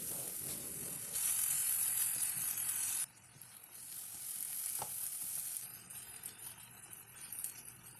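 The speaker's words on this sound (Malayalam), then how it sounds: "മസാലയെല്ലാം ചെമ്മീനിൽ നല്ലതുപോലെ പിടിക്കാനായി 2 മിനിറ്റ് നേരം കൂടി ഇതുപോലെ ഇളക്കി കൊടുക്കണം." Prawn roast masala stirred in a pan, a steady loud sizzle with the scrape of a spoon, easing to softer frying and stirring midway, with a few clinks.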